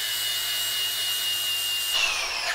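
A power tool cuts through a nut on a Ford Bronco, giving a steady, loud, high-pitched whine and grind that shifts and drops in pitch near the end, with no talk.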